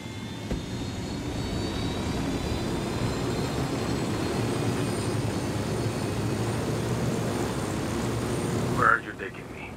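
Aircraft engine in the Ghost Recon Wildlands video game, a steady loud droning roar that holds throughout and cuts off abruptly near the end.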